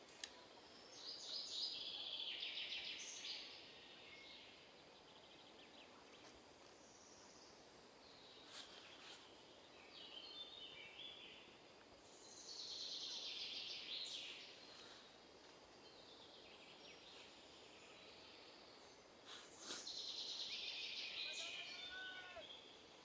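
Birds sing in a forest during a mountain bike orienteering race, with repeated high chirping phrases arriving in distinct bursts over a quiet, faintly hissing backdrop.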